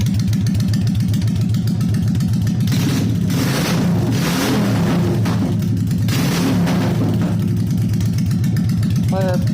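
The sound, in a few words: 2001 Honda Shadow ACE 750 motorcycle engine revving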